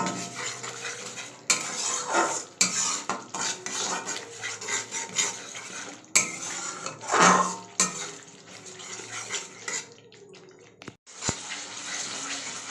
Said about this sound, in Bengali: দিয়ে এবার ভালো করে কষাবো মশলাটা